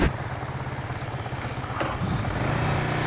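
A 2006 Kawasaki Vulcan 500 motorcycle engine with a raspy tone runs steadily and builds slightly as it accelerates, a continuous close, loud drone with no talk.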